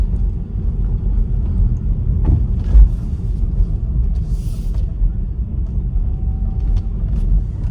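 A Tesla rolls across firm, flat beach sand at Huguenot Beach in Jacksonville, Florida, giving a steady low road rumble throughout, with a brief thump near the middle.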